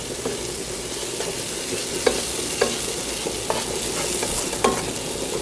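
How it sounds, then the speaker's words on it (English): Curry powder fries in a pan with a steady sizzle, broken by a few soft stirring taps at regular intervals. "Let me just fry this up a little more."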